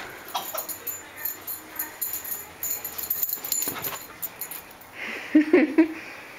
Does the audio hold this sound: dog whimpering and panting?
yes